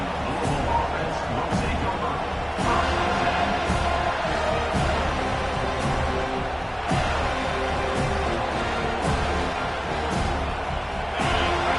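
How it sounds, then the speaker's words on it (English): Steady roar of a large college football stadium crowd during a game, continuous loud cheering and hubbub filling the whole stretch with occasional sharper swells. "listen to the roar of this crowd"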